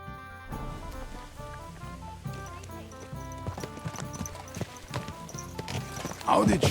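Horse hooves clip-clop steadily in Kingdom Come Deliverance 2, a medieval game, over a busy bed of music and game sounds, with a horse whinny near the end.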